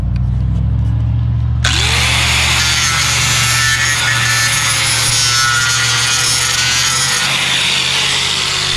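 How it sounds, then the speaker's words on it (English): An angle grinder fitted with a flap disc cuts metal on an equipment trailer, spinning up abruptly and then grinding loudly and continuously with a high metallic whine that shifts in pitch. "Let's see if we can cut this loose. I don't have a cutting disc. I've got it's a flap disc."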